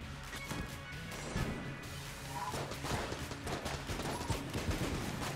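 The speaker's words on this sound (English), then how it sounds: "This is another gun as well where it needs something different for its weapon sound." Modded Enter the Gungeon gun firing in rapid, dense bursts of sharp electronic shots over steady game music and effects, loud and continuous without a break.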